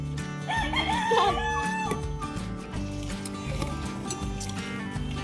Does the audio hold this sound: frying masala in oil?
no